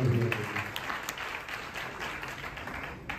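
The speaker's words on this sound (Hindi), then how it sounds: "तालियां मारो।" Applause from an audience at a motivational talk, a soft, steady wash of many hands clapping at a distance, fading slightly over a few seconds.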